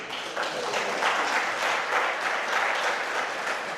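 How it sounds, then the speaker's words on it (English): An audience at a talk breaks into applause, a dense and steady round of many hands clapping close by that holds for a few seconds without any voices. "I wasn't actually looking for claps"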